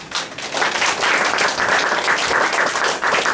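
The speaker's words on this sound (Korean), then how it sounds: "모두 교수님을 박수로 맞이하겠습니다" A church congregation at a Korean worship service for installing new officers claps to welcome a professor to the pulpit, a loud, dense ovation that carries through the whole stretch.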